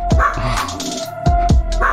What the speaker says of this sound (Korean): 옆에서 강아지가 짖었어